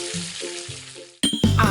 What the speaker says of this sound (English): Sizzle, sizzle in the pan.